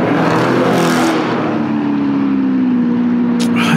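A subscriber's car engine roars loudly and steadily up close, holding a droning tone that sags slightly before a brief rise at the end, with no voices.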